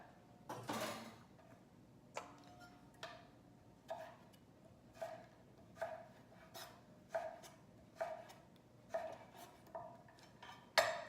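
A knife chops butternut squash into thin matchstick fries on a board, each cut a crisp, fairly faint knock that repeats about once a second in a steady rhythm.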